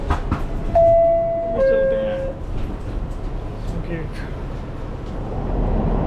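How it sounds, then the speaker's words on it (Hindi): A metro train pulls into a New York City subway station, with a loud rumbling roll, a brief high whine and squeal, then a steady heavy hum as it arrives. "ट्रेन तो आ गई है"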